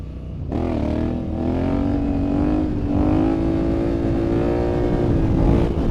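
Honda Africa Twin motorcycle engine pulling a power wheelie, a loud sustained roar rising steadily in pitch as it accelerates, close and alone.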